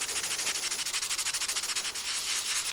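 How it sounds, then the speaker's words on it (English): Fast, even rubbing strokes of 220 or 320 sandpaper against a turned wooden box, a soft hissing rasp pulsing in quick rhythm, close up with no voices. "Do some quick sanding"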